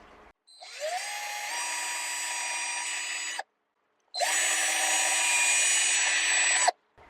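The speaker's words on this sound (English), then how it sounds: "I'm going to drill the holes in these two so I can fix these two pieces of wood together" A power drill boring holes into pieces of wood for a shelf: two steady, whining bursts of about three seconds each, separated by a short pause, close and loud, with no talk.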